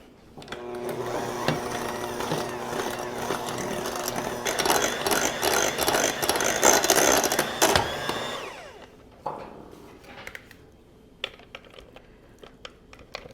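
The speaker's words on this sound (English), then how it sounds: "So we'll mix that until it's well blended together." An electric mixer beats softened cream cheese with half a cup of sugar for a no-bake chocolate mud pie, whirring and rattling steadily for about eight seconds before stopping, followed by a few faint clinks and taps.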